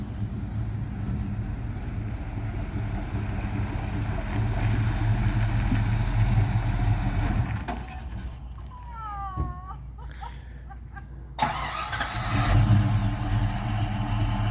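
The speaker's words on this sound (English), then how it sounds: "Just move the truck up gently." A 1984 Chevy C10 pickup with a 4-speed manual runs as a steady low engine rumble that rises as it creeps forward, then drops out and returns, with a short squeak in between.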